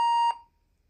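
A Gemmy Talkbax pug toy gives one steady electronic beep lasting about a third of a second, close and clear, then falls silent before recording starts.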